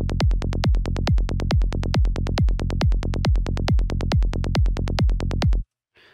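A kick drum and bass, synthesized in FL Studio with the two out of phase, thump in a fast steady four-on-the-floor pulse for about five seconds and then stop sharply.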